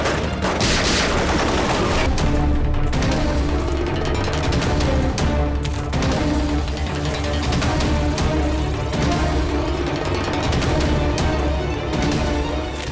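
Dense bursts of gunfire in a CID crime drama scene, rapid overlapping shots and loud cracks packed tightly throughout, mixed with a heavy continuous music bed.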